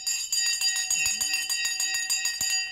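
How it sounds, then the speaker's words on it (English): Stock market closing bell ringing at 3 o'clock: a rapid, regular series of bright metallic strikes repeating about every fifth of a second, loud and sustained for the whole stretch, with faint voice-like tones underneath. "The bell is now gone, and we are just now 3 o'clock."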